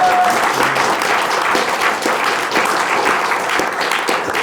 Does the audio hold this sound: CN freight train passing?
no